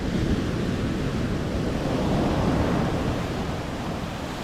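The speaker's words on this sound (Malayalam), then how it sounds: "അപ്പോൾ എന്തായാലും നല്ല രീതിയിൽ കടൽ കയറിക്കൊണ്ടിരിക്കുന്നുണ്ട്" Rough, swelling sea surf surges steadily onto a beach lined with coconut palms, boats waiting offshore; a dense, continuous roar with no voices and some wind buffeting the microphone.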